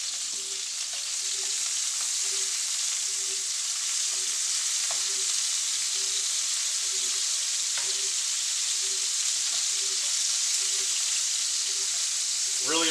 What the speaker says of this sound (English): We really just want a nice little sear on the outside.